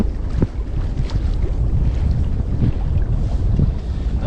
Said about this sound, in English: we got wind out here still farther than I thought we were going to have